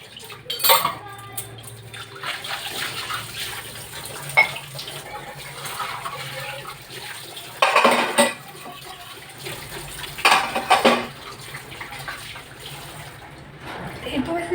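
Tea pots and breakfast dishes washed under a running tap, with repeated clinks of cutlery and pans over the hiss of water, and someone talking at intervals.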